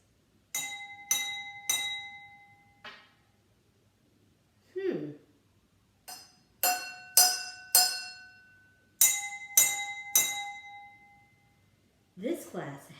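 Water glasses filled to different levels are struck as percussion, giving bright ringing clinks in quick groups of two or three that decay slowly, with brief voiced sounds in the pauses between.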